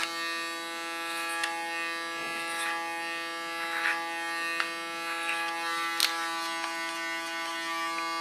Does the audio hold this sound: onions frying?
no